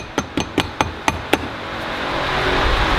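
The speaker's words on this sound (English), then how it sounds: "Leather hammer, always a leather hammer." A leather hammer knocks on a part of a 1975 Harley-Davidson FXE Shovelhead motorcycle with six sharp, evenly spaced taps close to the mic. A steady low rumble follows.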